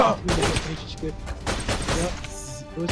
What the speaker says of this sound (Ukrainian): Стріляємо, стріляємо, швидко, давай.